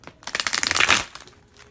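A deck of Fairy Tarot cards, some of them newer, is shuffled by hand: a quick burst of riffling, crinkling flicks that builds, peaks and then tapers off, close and moderately loud with no talking.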